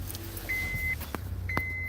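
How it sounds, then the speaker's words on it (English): A car's electronic beep sounds twice in sharp, evenly pitched tones over a low idling engine hum, with a couple of brief clicks between them. "The car beeping."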